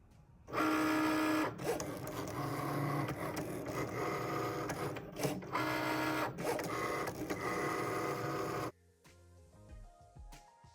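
A Cricut Maker cuts fabric with a fine point blade, giving a loud whirring, buzzing motor drone with repeated shifts in pitch as the carriage moves. After several seconds it stops abruptly and gives way to faint clicks.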